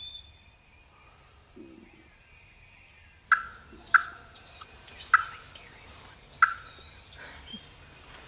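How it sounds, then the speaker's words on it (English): Wild turkey gobblers roosted in trees, gobbling in a series of four or five sharp, fairly distant calls after a quiet stretch, with faint outdoor ambience between them. "I've got some gobblers roosted."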